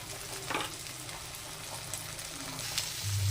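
Coriander, chili and turmeric powder frying in a pan, a soft steady sizzle with a few light stirring scrapes and clinks, fairly quiet and close.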